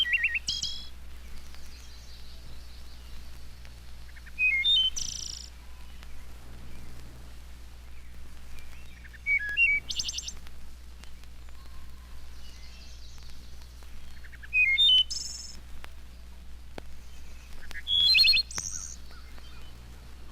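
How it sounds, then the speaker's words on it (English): A thrush sings short, varied phrases of clear whistled notes, each burst separated by several seconds of quiet over a low steady hum. "To show the marvelous improvisations of the thrush, the endless variety of his song"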